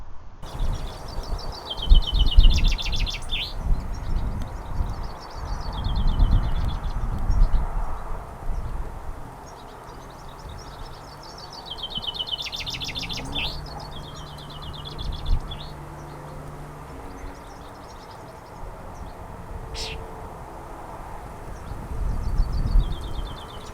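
Goldfinches give short twittering calls in scattered bursts along a marsh track, fairly faint over a low outdoor rumble.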